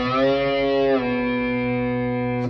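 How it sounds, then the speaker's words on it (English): An electric guitar string, played with a distorted, effects-laden tone, is picked and then bent upward so the note slides up in pitch and sustains, ringing out alone for a couple of seconds. "I'm letting it sound the bending up in pitch, which I'm achieving by pulling down on the string."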